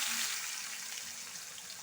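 Curry leaves, onions and green chillies fry in oil in a pan for tomato egg curry, a soft, steady hiss that fades slightly over a short stretch, with no talking.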